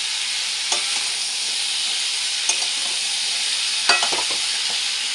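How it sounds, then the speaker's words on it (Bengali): Mixed vegetables that have started releasing water hiss and sizzle steadily in a pan, while a spatula stirs them with a few scraping clicks, close and alone. "দেখো এটা নাড়াচাড়া করছি, বেশ জলও ছাড়তে একটু শুরু হয়েছে।"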